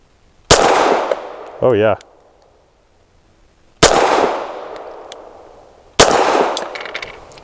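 A Grand Power Mk23 X Calibur pistol with a 4.8 inch barrel fires three loud, sharp outdoor gunshots spaced a couple of seconds apart, each ringing off into a long decaying echo, with a brief spoken remark after the first.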